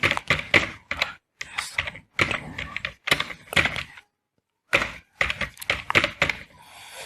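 Close, crisp keystrokes on a computer keyboard come in quick bursts separated by brief pauses while a form is filled in, with no talk over them.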